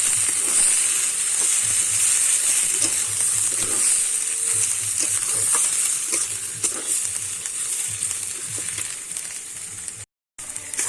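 Ground ghatkol leaf paste fries in a pan with a loud, continuous hiss and sizzle while a utensil stirs it, adding soft scraping strokes throughout; close up, no voices.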